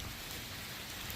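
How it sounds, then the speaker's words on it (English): Steady rain falls on a lawn, a dense, even hiss of drops hitting the grass with no break and no voices, fairly close and constant throughout. "The rain is coming down, so everything will be watered in just right."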